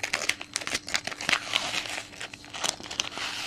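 Tape being pulled and torn off a mail package, a run of close crinkly crackles and short ripping bursts of plastic and cardboard, irregular and fairly quiet, with no talking.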